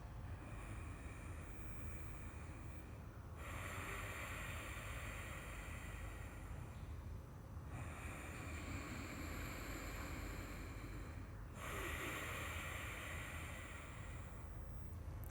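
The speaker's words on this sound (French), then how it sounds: "juste par le nez, inspiration et expiration." Slow Ujjayi yoga breaths drawn in and out through the nose, each long, airy, ocean-like rush swelling and fading in a steady cycle of about four seconds, close to the microphone, with no speech.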